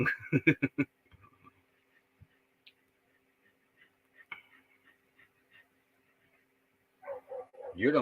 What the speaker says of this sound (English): Don't be barking at Ace, Jasper. That'd be a good boy.